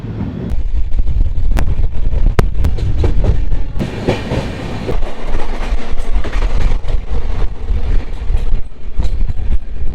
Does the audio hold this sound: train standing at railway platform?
yes